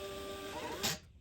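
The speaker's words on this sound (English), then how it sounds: "We want the labels from this BT320 printer." A BT320 label printer prints a shipping label: a steady mechanical whir runs for about a second, then a brief louder burst as the label feeds out and the motor stops.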